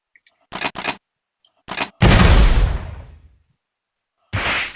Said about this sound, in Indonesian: Kemudian dia akan meledak.